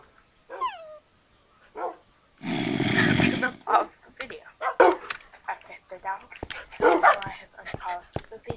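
A dog barks and yips in a run of sharp, irregular bursts with whining rises between them, loud and close, broken by one longer harsh noise partway through.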